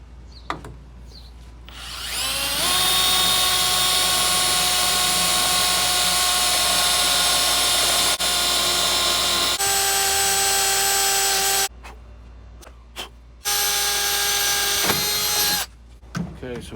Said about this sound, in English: So we'll go ahead and get the drilling.